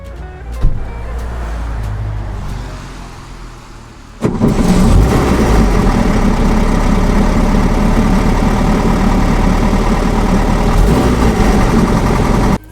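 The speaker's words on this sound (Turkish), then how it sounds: "Şimdi dilerseniz önce bir motorun sesini dinleyelim" A 1964 Volkswagen Type 3 engine cranks and starts, then settles into a loud, steady rumbling idle nearby before cutting off abruptly at the end.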